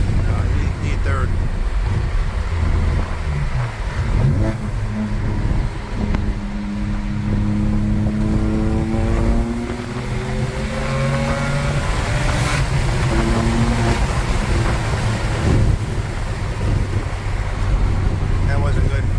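A BMW 335i with the N54 engine and six-speed manual gearbox accelerates in fourth gear at night, a loud steady engine drone with rising tones under strong wind and road noise throughout.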